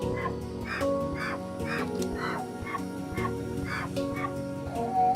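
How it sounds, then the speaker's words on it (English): A dense crowd of chickens in the video game Minecraft clucking and squawking in repeated bursts over a steady low hum, busy and continuous throughout. "Chickens."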